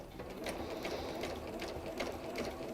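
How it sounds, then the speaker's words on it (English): A Juki UX8 sewing machine with a walking foot stitches through fabric at a slow, steady pace, its needle ticking in an even rhythm, close but fairly quiet, with no talking. "Jane's using the Juki UX8 today."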